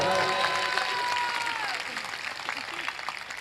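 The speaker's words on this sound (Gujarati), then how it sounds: "વધાવો તાળીઓથી વધાવો." An audience at a live Gujarati comedy show breaks into dense applause that stays strong for about two seconds and then fades, with a voice faintly present over it.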